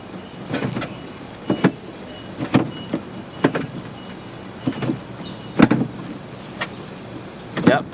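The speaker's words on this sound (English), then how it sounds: "this is actually going to lower the tire from down below" A car's spare tire is lowered from underneath by its winch, heard as a series of sharp clicks and ratcheting knocks spaced about a second apart, close and moderately loud.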